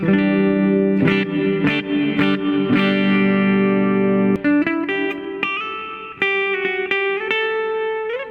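Clean electric guitar played through a Yamaha THR10 amplifier with the synth pedal bypassed, plucked notes and chords ringing out one after another with sustained tones, loud and close, no talking.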